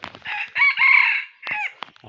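A rooster crows loudly and up close in a single full cock-a-doodle-doo, then adds a shorter trailing call, with no talk over it.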